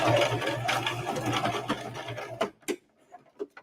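Sewing machine stitching a handmade wallet, backstitching as it goes: a close, rapid needle whir for about two and a half seconds, then a few soft clicks and handling knocks once it stops.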